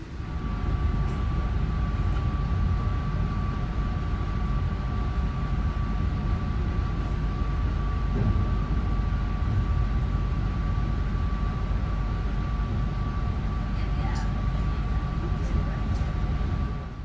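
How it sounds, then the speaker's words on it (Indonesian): The Ranggajati economy passenger train rolls out of Cirebon station, heard from inside the carriage: a steady low rumble and hum with a constant tonal whine, faint occasional clicks, continuous and unchanging throughout. "kereta api Ranggajati yang saya naiki sudah diberangkatkan dari stasiun Cirebon"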